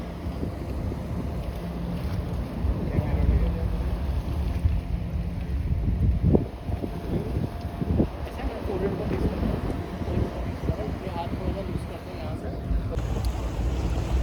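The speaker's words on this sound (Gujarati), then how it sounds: "અહીંયા પવન કેટલો છે અને અવાજ બી એટલો આવે છે જોરદાર" Strong wind roars steadily across an open microphone at sunset in Goa, with broad rumbling gusts and a few sharper buffeting bursts in the middle.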